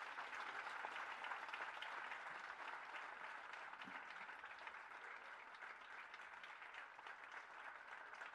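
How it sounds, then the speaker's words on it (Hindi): Far-off, faint applause rises from a crowd at a Rajasthan BJP state executive meeting in Jaipur to welcome J.P. Nadda, a steady wash of clapping that runs evenly throughout. "नड्डा जी के स्वागत में जोरदार तालियां होनी चाहिए।"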